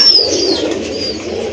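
A pair of big-sized pigeons cooing close by, a soft throaty coo with a brief higher chirp at the start, heard alone without talk.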